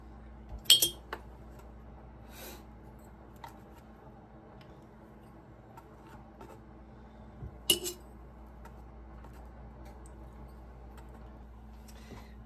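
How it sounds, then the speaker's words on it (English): A metal spoon clinks against glass canning jars while onion powder is portioned out for canned pinto beans, giving two sharp clusters of close clinks separated by faint scattered ticks in a quiet room. "add half a teaspoon of onion powder to each of my jars"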